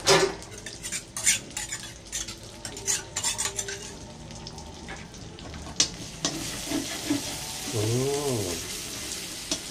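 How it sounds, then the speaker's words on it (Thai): Pork belly stir-fried with garlic and chili in a pan for Thai basil pork, with repeated sharp clinks and scrapes of the utensil against the pan over a steady sizzle that swells louder near the end. "ทีนี้ก็ผัดเหมือนเดิมครับผัด2สิ่งนะครับที่กับกระเทียมให้มีกลิ่นที่หอมให้เขาสุกก่อน"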